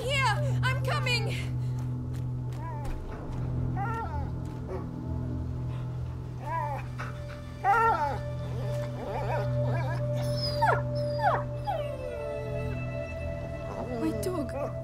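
A dog in the video game A Plague Tale: Innocence whimpers and yelps in high, wavering cries over a steady low droning hum, with several short bursts and one longer whine near the end.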